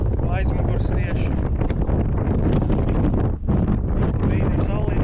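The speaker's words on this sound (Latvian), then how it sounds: "Vējš pūš, aizmugurs tieši." Wind roars loudly and steadily across the microphone while cycling on a sunny day in Latvia, a constant heavy buffeting that fills the whole stretch, with a voice surfacing briefly now and then.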